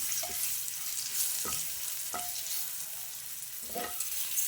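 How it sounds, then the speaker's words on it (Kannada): Whole spices fry on a hot tava with okra and ridge gourd, giving a steady soft sizzle broken by a few sharp stirring scrapes, close and alone. "ಹಾಕಿ 1-2 ನಿಮಿಷ ಚೆನ್ನಾಗಿ ಮಿಕ್ಸ್ ಆಗೋವರೆಗೆ ಫ್ರೈ ಮಾಡಿ."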